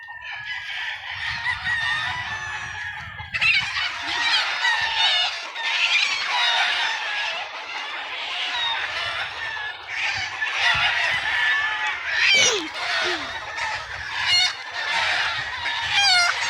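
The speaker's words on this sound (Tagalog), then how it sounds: "ginawa na lang kulungan ng manok" Chickens cluck and a rooster crows repeatedly inside a swimming pool converted into a chicken pen, a busy, loud mix of overlapping fowl calls close by with low rumbling underneath.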